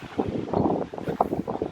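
Gusty wind buffeting the microphone on a rainy stretch of the Norfolk Coastal Path, coming in uneven low rushing bursts close to the mic, with no voices.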